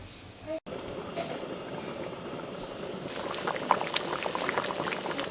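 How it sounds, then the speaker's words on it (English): Cameroonian/Nigerian pepper soup with meat bubbling in a pot on the stove, a dense, continuous close boil with small pops and gurgles throughout, brief dropout near the start, no voices. "It's boiling and all the meat is cooked"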